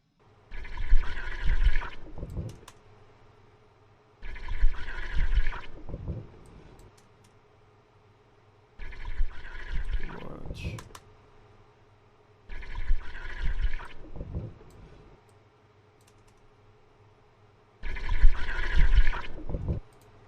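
Water sound effect designed in Logic with stock plugins: five separate gushing, bubbling bursts of liquid, each about two seconds long, evenly spaced with quiet gaps between them.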